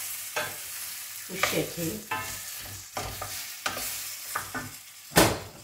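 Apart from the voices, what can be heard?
stirring rice and zucchini dish in a pot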